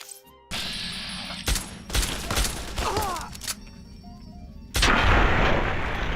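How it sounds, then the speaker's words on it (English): SMG fire in Fallout's Tale of Two Wastelands comes as sharp, loud bursts with gaps between them, ending in a heavy blast. "That dude's got like an SMG or something."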